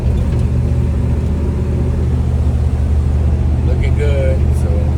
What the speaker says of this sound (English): you really gotta know how to drive these little vehicles